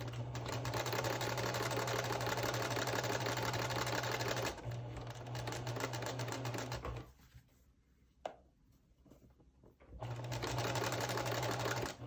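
Sewing machine stitching a strip onto a friendship quilt block, a steady loud mechanical whir that runs continuously, stops for a few seconds of near silence with a small click, then resumes at full speed.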